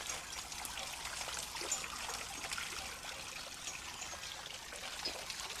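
Water trickles steadily through the escapement of a water clock, a faint, continuous splashing stream heard close and alone without voices.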